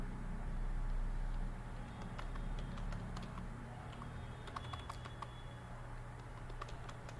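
Keys clatter on a computer keyboard as text is entered into Microsoft Word, a faint, irregular run of light clicks over a steady low background hum.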